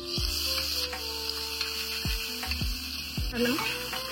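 Coriander, ginger and garlic masala paste frying in hot oil, a steady close sizzle with occasional clinks of a utensil in the pan.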